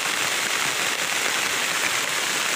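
Heavy rain pouring in the mountains, a dense, steady hiss of drops on leaves and surfaces, loud and continuous with no pauses, heard alone without talk.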